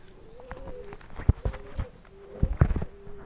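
Pigeons of teddy and kamager breeds on a rooftop loft give soft, repeated cooing calls in short bursts, moderately close, with faint shuffling and footstep-like taps between the coos.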